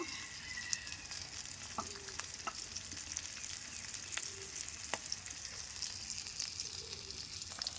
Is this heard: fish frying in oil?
yes